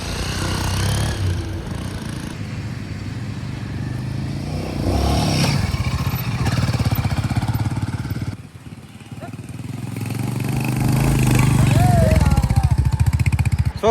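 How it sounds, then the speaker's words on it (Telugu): Royal Enfield Himalayan and Hero Xpulse motorcycles ride onto a road, their engines running steadily close by for the whole stretch, with a brief dip and then louder revving near the end; voices talk over the engine noise. "ఫొటోస్ వీడియోస్ తీసిన తర్వాత మన బైక్లని రోడ్డు మీదకి అయితే ఎక్కిస్తున్నాం"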